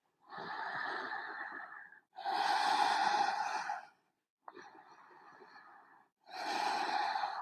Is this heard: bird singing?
no